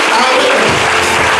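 A church congregation applauds together in a short, steady wash of clapping that fills the whole moment, with voices mixed in.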